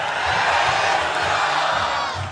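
A large crowd roars the chant "Jai Shri Ram" in unison at an academy's foundation day event, loud and sustained, voices blending into a dense swell that fades slightly at the end.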